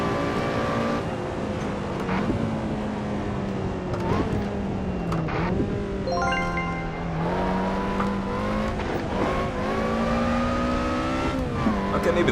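Race car in the Assetto Corsa sim game running steadily with a loud engine drone, pitch rising and falling through gear changes, plus brief knocks from driving over curbs, with some faint talk mixed in.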